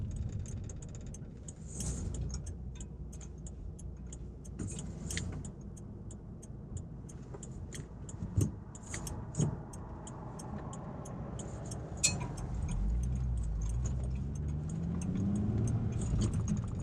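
Mercedes Kompressor supercharged engine paired with a manual gearbox, idling and rumbling low and steady, with occasional ticks and clicks and a rising rev near the end, no talking.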